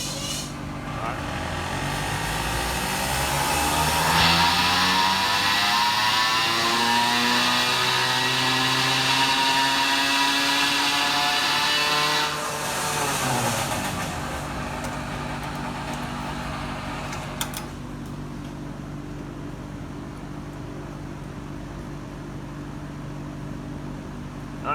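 A motorized bicycle's small engine revs up through a dyno pull, its buzzing pitch climbing steadily before dropping back to a lower idle, loud and close with voices around it.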